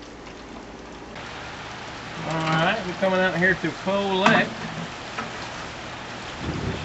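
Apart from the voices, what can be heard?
heavy rain falling outdoors with thunder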